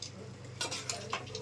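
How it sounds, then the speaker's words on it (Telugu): Amaranth leaves and moong dal curry being stirred in a pot, with a spoon scraping and clinking against the metal in a few quick strokes over a soft background sizzle. "ఇదంతా ఒకసారి కలుపుకుందాం"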